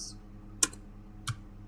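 A couple of keystrokes tap on a computer keyboard while a chmod command is typed, two faint, brief clicks spaced apart in a quiet room.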